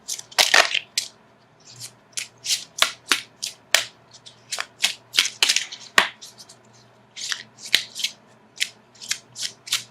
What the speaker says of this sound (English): So let me shuffle for an outcome card.